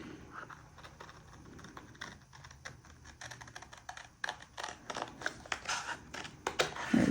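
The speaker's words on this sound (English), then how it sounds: "when I cut, I also am careful to cut at a right angle" Scissors cutting a paper sloper pattern at a right angle: quiet, repeated crisp snips and paper rustles in an uneven rhythm, growing louder and closer toward the end.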